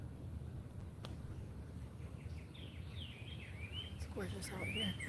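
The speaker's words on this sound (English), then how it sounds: "Do you hear the birds?" Birds sing outdoors, faint chirps and short trilling calls rising over a steady low background rumble, growing a little busier toward the end.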